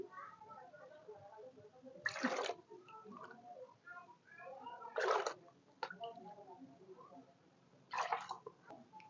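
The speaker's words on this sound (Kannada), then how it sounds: "ಈಗ ಆರು ಕಪ್ ನೀರು ಹಾಕ್ತೀನಿ" Water is poured in three short, splashy bursts a few seconds apart, fairly quiet, with soft background noise between pours.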